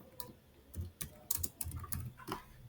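Close, quiet typing on a computer keyboard, an uneven run of soft key taps and clicks with a few brief pauses and no voices.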